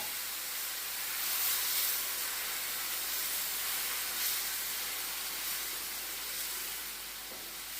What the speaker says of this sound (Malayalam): അതൊന്ന് തിളയ്ക്കുന്നു